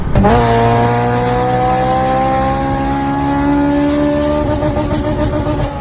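Maruti Gypsy petrol engine climbing the Agumbe ghat road, a loud, steady near drone with smooth rising pitch as it pulls uphill, no talk over it.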